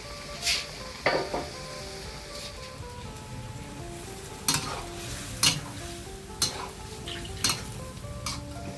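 Stir-fried frog sizzles and bubbles steadily in a pan, broken by a few sharp clinks and scrapes of a utensil against the metal.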